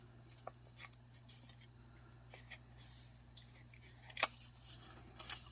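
Scissors snip paper at a crafting table while decorating a CD sleeve for a junk journal, making soft, quiet, scattered cuts with a couple of sharper snips near the end.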